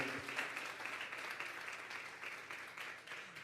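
A church congregation at a Sunday service claps together in steady, sustained applause, moderately distant and fairly quiet, with no voices standing out.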